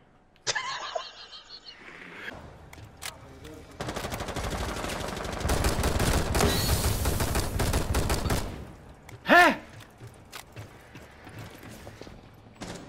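Gunfire in the video game Rainbow Six Siege: a long, loud stretch of rapid automatic shots, with mechanical clicks and rattles before and after, then one short sharp burst near the end.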